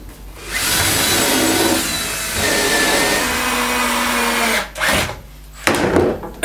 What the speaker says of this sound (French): Donc là je perce et je fraise à la fois.